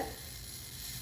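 Mustard seeds hit hot coconut oil in a heated pan, giving a steady, dense sizzle that stays close and loud throughout the short moment, with no talking.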